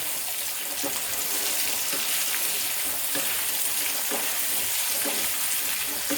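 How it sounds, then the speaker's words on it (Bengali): Taro (arbi) pieces fry in hot oil with a steady, loud sizzle, while a utensil stirs them continuously and scrapes and knocks lightly against the pan. "এইভাবে অনবরত নাড়াচাড়া করে গাঠি কচুগুলোকে ভেজে তুলে নিতে হবে।"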